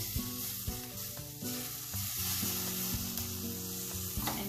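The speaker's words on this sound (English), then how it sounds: "and give it a quick stir." Fried bottle gourd muthiya sizzles steadily in oil as sugar and lime juice are stirred in, with a continuous loud crackle and spoon scrapes against the pan, close and without voices.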